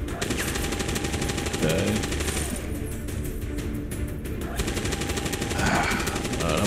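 Sustained automatic gunfire from suppressive fire in the video game X-COM rattles on continuously at a steady loud level, with a brief spoken word over the shooting.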